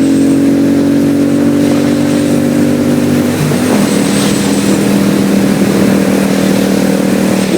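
A 2002 Suzuki VS800 Intruder motorcycle on the move, its engine loud and close with a steady throbbing drone that shifts pitch midway as the rider changes speed, then carries on under wind rush.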